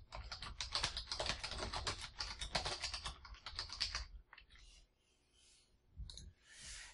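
Quick, dense clicking of keys on a computer keyboard while an email message is typed in the Windows 8 Mail app, a steady patter for about four seconds before trailing off into a few faint, scattered taps in a quiet room.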